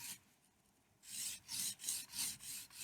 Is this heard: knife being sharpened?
yes